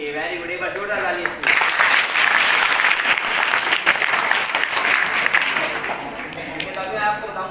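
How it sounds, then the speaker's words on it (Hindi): A group of children applauds loudly and continuously, a dense wash of clapping that swells after a brief moment of voices and holds steady throughout. "एक बार जोरदार तालियां।"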